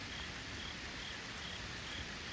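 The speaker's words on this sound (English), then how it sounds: "I can hear the frogs." Frogs calling through a steady wash of night rain near a pond and gorge during Hurricane Helene flooding, a continuous dense trilling chorus, even and unbroken, with no voices.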